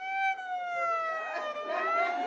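A police car siren wails loud and close, its steady tone sliding slowly downward as the vehicle passes, with engine and road noise rising underneath toward the end.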